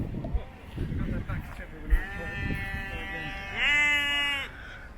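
Sheep bleat in a Grenada neighbourhood, two long wavering calls rising over steady outdoor background noise and a few knocks, fairly close and loud.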